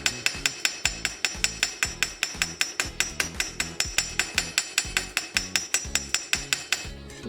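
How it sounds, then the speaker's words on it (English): A hammer taps the edge of a copper bracelet to texture it, delivering a brisk, even run of several dozen sharp metallic strikes close up, with no voices. "all I'm doing here is just hammering the edge of it, giving a little texture"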